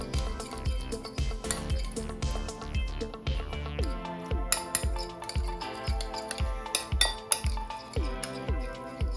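Utensil whisking sesame oil and Kewpie mayo sauce in a bowl, fast rhythmic clinking and tapping against the bowl, close and continuous with sharp metallic strikes.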